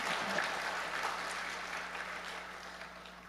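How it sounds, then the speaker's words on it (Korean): Congregation applauding in a church after a closing prayer, a steady broadband clatter of many hands sustained at even loudness throughout, with a low hum underneath. "큰 박수 부탁합니다"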